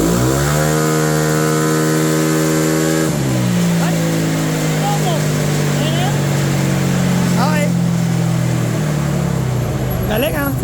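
Yamaha Nmax V2 scooter engine revving hard on a dyno bed, a loud sustained drone climbing and holding high revs before dropping, with people talking in the background.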